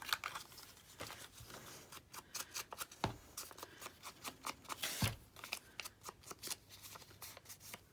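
Scissors snip the corners off a paper journal card in a run of short, crisp cuts and papery rustles. The sounds are close but soft and come in an uneven rhythm.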